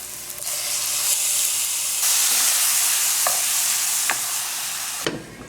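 Beef fries in a pot with grated garlic, pimento and onions, giving a loud, steady sizzle and hiss with a few light clinks of stirring; no one speaks.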